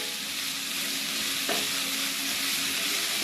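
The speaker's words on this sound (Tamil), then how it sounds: "சிம்மில் வச்சு இந்த மாதிரி வதக்கணும்னா அது வந்துடும் 3/4 வேக்காடு." Capsicum sautéing slowly over a low flame in a pan, a dense continuous sizzle close and steady throughout, with one brief stir or scrape midway and no talking.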